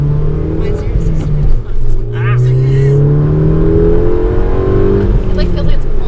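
A 2010 Volkswagen GTI accelerating hard, heard from inside the cabin: a steady, loud engine drone rises in pitch and holds through the pull, with a passenger's voice briefly cutting in.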